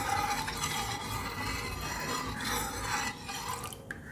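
Milk warming in a pan over a low flame while a spoon stirs it steadily, a soft continuous liquid swirl with faint scraping, close and even with no talking.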